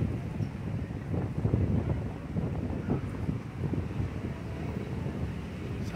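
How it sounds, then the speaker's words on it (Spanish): Strong wind sweeps across an outdoor football match, producing a continuous low roaring buffet that swells and eases over several seconds, with no voices. "Bastante viento, un viento muy fuerte que favorece pues al equipo Zapote."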